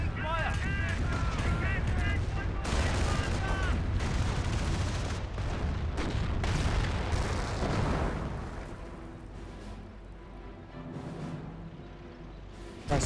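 Rocket barrage and gunfire in the Company of Heroes video game, dense rapid blasts and crackling shots for about nine seconds, then thinning to scattered bursts, with game voices talking throughout.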